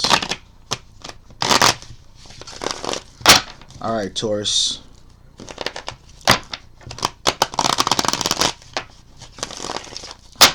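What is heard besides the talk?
shuffling tarot cards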